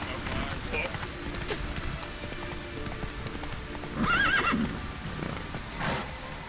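Horse in The Witcher 3 video game gives a clear whinny partway through over a steady galloping clip-clop, with background ambience.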